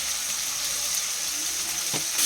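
A frying pan holding tomatoes, grated ginger and salt sizzles steadily and hisses, with a single soft scrape of stirring near the end and no speech.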